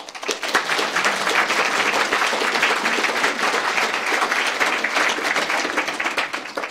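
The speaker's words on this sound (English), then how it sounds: "It'd probably be a good idea to save the applause for the end" An audience at a cyber security lecture breaks into sustained, dense applause welcoming the speaker Mike Richards, loud and even throughout with no voices over it.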